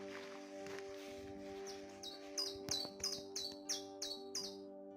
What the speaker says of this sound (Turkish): Evet kuş seslerini duyuyorsunuz.